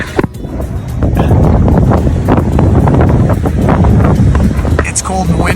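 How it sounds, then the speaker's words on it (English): Cold wind buffets the microphone at the ocean in a heavy, steady rush, with someone talking faintly underneath. "it's cold and windy."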